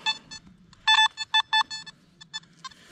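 Nokta Makro Simplex metal detector in a forest or waterside search, sounding a burst of sharp tonal beeps in quick irregular pulses, loud and close with no talk.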